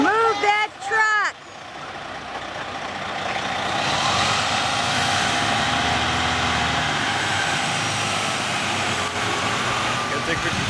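A truck moves outside a house at a home-reveal event, its engine rumbling loudly and steadily under a crowd's cheering and talk, with reversing beeps sounding faintly through the din.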